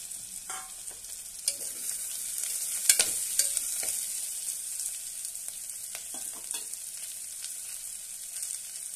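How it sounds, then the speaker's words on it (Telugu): Pumpkin pieces drop into a hot pan and fry, a bright steady sizzle with scattered clatters and sharp scrapes from stirring throughout. "ఇప్పుడు మనం కోసి ఉంచుకున్న గుమ్మడికాయ ముక్కలు వేసుకోవాలి"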